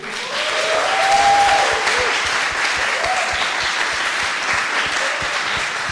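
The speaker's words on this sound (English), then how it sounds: "Please clap your hands for our colleagues from the Goethe Institute." An audience at a hackathon final presentation claps for colleagues from the Goethe Institute, a full, loud, sustained round of applause with a few faint voices or cheers mixed in.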